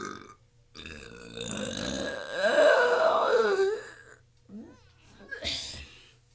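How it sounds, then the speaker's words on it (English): One long, loud, drawn-out burp rumbles close to the mic for a couple of seconds, followed by a couple of shorter vocal sounds. "He's the last biggest burp."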